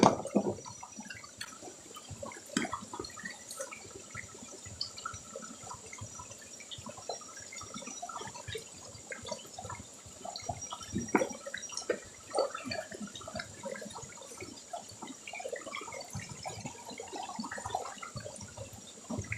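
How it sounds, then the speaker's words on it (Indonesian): Water pouring into a sprayer tank of liquid rubber-tree fertilizer, a quiet continuous splashing and gurgling trickle with faint drips, steady throughout, no talking. "Dan kita tambahkan dengan air sampai penuh."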